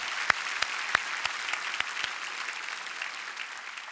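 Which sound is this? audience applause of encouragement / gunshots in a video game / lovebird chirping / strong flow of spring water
audience applause of encouragement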